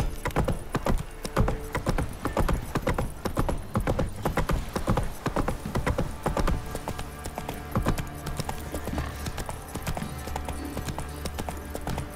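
Horse hooves clip-clop steadily in The Witcher 3, a dense, fairly close rhythm of hoofbeats that runs throughout with a faint background of game ambience.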